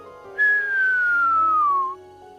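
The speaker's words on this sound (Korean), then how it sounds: "이건 휘파람 부는 사람이라고 불리는 신호인데 번개가 만드는 작품입니다." A lightning-made whistler radio signal: a single clear descending whistle-like tone lasting about a second and a half, gliding steadily downward in pitch, fairly loud over a faint background.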